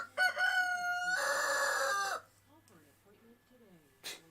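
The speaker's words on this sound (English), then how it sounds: "I make eye contact with this damn rooster in my window" A rooster crowing just outside a window, one loud, long crow up close, followed by a person talking and a short final call.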